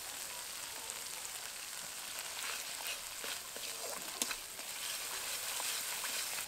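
Mustard paste fries in oil with salt and turmeric, a faint, steady sizzle with small scattered crackles throughout.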